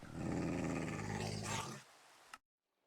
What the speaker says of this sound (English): The hell is a wild dog?